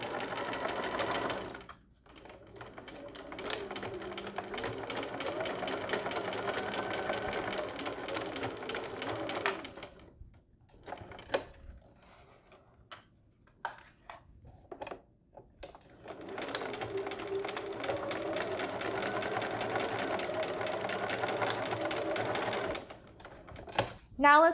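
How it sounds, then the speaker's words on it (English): A sewing machine whirs steadily in two long runs of rapid stitching through thin lining fabric, separated by a quieter pause with brief handling sounds. "the sewing machine and we're gonna sew at 1/4 inch seam allowance from the end"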